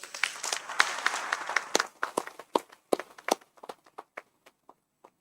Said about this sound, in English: I think all of you all deserve a good round of applause together